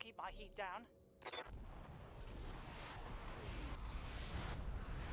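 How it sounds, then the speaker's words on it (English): Artillery barrage in the mech combat game Battletech: after a brief voice, a dense rumbling roll of explosions takes over, loud and continuous with repeated heavy bursts building to the end. "Now watch the pretty explosions."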